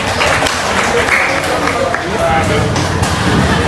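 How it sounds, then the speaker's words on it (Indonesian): An audience claps at a university film discussion event, a loud, continuous patter of many hands with crowd murmur and some voices talking over it. "Tepuk tangan dulu."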